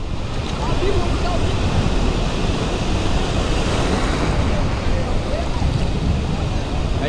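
Boat out on the open sea near Ilha Comprida, with steady broadband wave wash and wind buffeting the microphone, loud and continuous throughout.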